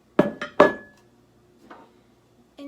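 A metal loaf pan handled in a kitchen while baking chocolate banana bread, giving three sharp metallic clanks in quick succession, close and loud, followed by a softer clink and a brief knock.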